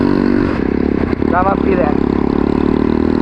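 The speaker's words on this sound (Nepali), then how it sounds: "आवाज चाहिँ बवाल लाग्यो क्या मलाई त्यो बाइकको" A motorcycle engine throbs loudly and steadily while being ridden on a rough road, with clattering and scraping mixed in and people talking over it.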